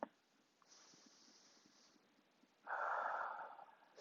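A slow, breathy yoga exhale through the nose rises softly out of near silence, holds for about a second, then fades. Faint airy breathing comes before it.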